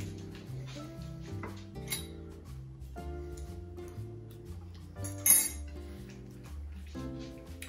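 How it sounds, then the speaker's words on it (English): A spoon stirs roast vegetable risotto in a pot, scraping and clinking against the metal sides in irregular, close knocks over steady background music. "The trick with a risotto is to don't stop stirring, just keep stirring and just cook it slowly"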